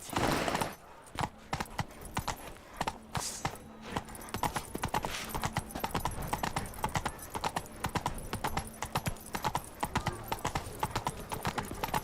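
A horse's hooves clip-clop in a steady walking rhythm in The Witcher 3, a run of crisp, evenly spaced hoof strikes, close and clear.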